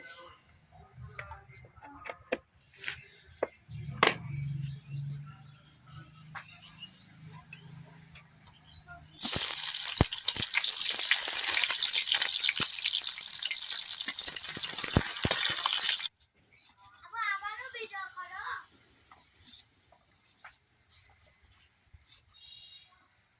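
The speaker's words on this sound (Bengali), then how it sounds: "তো কড়াই আমি তেল দিয়ে দিচ্ছি।" Oil hits a hot kadai in a village kitchen and sets off a loud, dense, continuous sizzle lasting several seconds. Quieter ticks and clatter come before it, and birds chirp faintly afterward.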